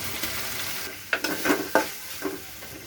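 Masala paste for aloo gobi fries in oil, with a soft sizzle underneath and a handful of scraping stirring strokes against the pan in the second half, close by and without talk.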